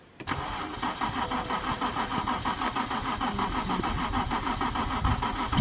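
A turbocharged BMW engine cranks briefly and fires, then settles into a rough, loping idle with a rhythmic pulsing chug, close and steady for several seconds.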